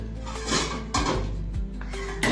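A heavy metal curry pot clanks down onto a stove, with a couple of sharp metallic knocks and a faint ringing hum underneath.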